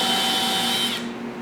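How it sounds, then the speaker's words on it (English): A power drill bores a mounting hole for an SB PRO mount to HDI off the edge of a table, giving a steady, loud whirring whine that cuts off abruptly near the end. "now that one's drilled and you're done with the drill."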